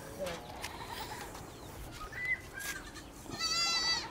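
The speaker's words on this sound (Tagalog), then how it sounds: "may mga kambing ka pa pala" Goats bleat on a small Philippine farm, with a few short calls scattered through and a clearer bleat near the end, under light outdoor background noise and some nearby talk.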